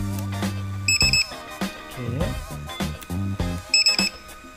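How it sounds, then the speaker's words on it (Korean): A beeper fitted inside a Traxxas LED Ford GT RC car gives two quick bursts of rapid high beeps, about three seconds apart, over a busier mix of other electronic tones. "삐삐 장착하면 소리가 삐디디디 되겠지?"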